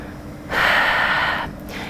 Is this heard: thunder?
no